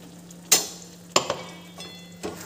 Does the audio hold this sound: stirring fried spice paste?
yes